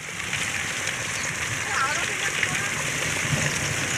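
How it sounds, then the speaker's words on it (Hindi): Heavy rain with hail in a village, a dense, steady wash of falling water and patter, fairly loud and continuous, with a person speaking over it. "बारिश जो है बहुत ही तेज़ हो रही है। आज ओले भी गिर रहे हैं साथ में।"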